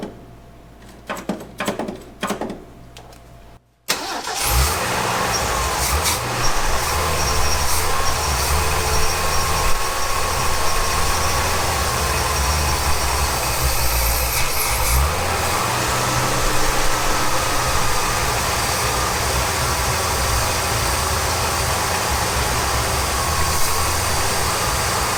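A 1965 Ford F250 service truck's engine, long parked, catches after a few brief cranking bursts and settles into a loud, steady, rough idle that runs on unbroken and close.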